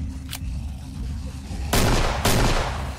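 Shotgun blasts in the zombie shooter Killing Floor, one sharp faint report followed by two loud booming shots over a low rumbling background.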